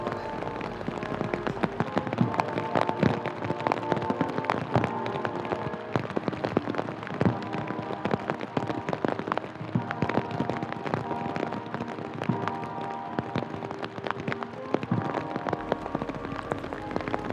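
Heavy pouring rain falls steadily on surfaces during a funeral procession in Singapore, a dense unbroken patter lasting the whole stretch with no voices above it.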